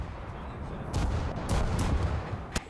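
Scharnhorst battleship secondary guns firing in the naval combat game War Thunder, a run of booming shots with broadband blasts near 1.0, 1.5, 1.8 and 2.6 seconds over a steady rumbling background.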